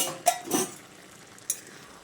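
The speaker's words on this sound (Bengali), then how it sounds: "তারপর ঢাকাটা খুলে আরও একবার সয়াবিনগুলোকে ভালো করে নেড়ে চেড়ে নিচ্ছি।" Soybean curry with egg being stirred in a pan after cooking under a lid: a few brief scraping and clinking spoon strokes against the pan over a quiet background.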